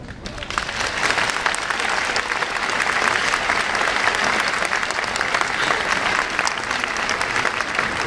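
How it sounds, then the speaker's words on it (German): A large audience at the Apassionata horse show in Bielefeld applauds in a sustained, dense wash of clapping that swells quickly and holds steady throughout, with some faint crowd voices underneath. "Also, klatschen Sie so viel und so laut Sie möchten."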